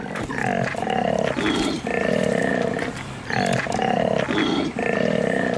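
A male koala bellows loudly at close range, a deep, snoring, grunting roar that repeats in rhythmic rasping cycles across the whole stretch.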